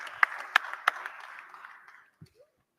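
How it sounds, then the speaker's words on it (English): Brief, thinning applause from a small group, a few sharper claps standing out, fading out within two seconds. "An applause for the scrutiny."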